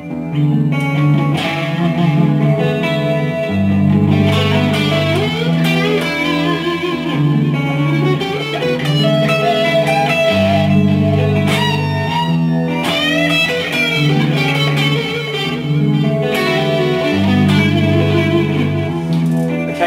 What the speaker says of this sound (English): So I'm going to add like a vintage style distortion.